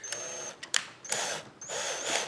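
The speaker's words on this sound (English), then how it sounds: "I tend to use a battery drill, it's a little bit quicker for me" A battery drill drives screws into a student desk during assembly, sounding in several short whirring bursts of varying length with quiet pauses between them, close and fairly soft.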